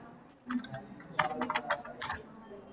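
Typing on a computer keyboard while entering text in MS Word: close bursts of quick, crisp key clicks in uneven runs, with short pauses between them.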